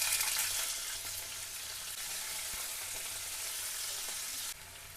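Carrots and beans sizzle and fry in hot oil in a pan, a steady hiss of frying that continues evenly, then drops off slightly near the end.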